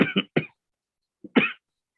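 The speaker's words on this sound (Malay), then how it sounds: "Cuma kadang-kadang batuk, minta maaf tuan" A man coughs a few times in quick bursts, then once more after a pause, close and fairly loud with no talk around it.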